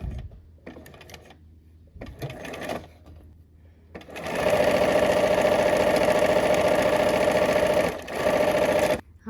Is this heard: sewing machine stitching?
yes